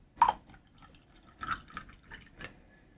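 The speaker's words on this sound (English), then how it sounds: "Let me pour a little bit more." Steeped ginger black tea poured into a cup in a few short, soft splashes and drips at close range, with quiet pauses between them.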